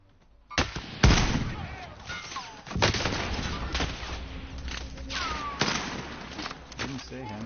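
Gunfire in the video game Call of Duty Warzone, several sharp shots spread over a few seconds, some louder and nearer, with game effects and a low rumble underneath.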